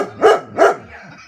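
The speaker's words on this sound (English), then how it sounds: "Sorry, this is my dog." A dog barks twice in quick succession, loud and close, with a short pause between the two barks and a faint trailing whine after.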